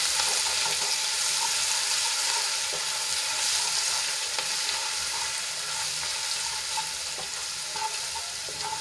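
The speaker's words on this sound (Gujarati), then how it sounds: "અને તેલમાં થોડીક સાંતળી લઈશું." Ginger, garlic and chili paste sautéing in hot oil with cumin, a continuous bright sizzle broken by occasional scrapes and clinks of a spoon stirring the pan.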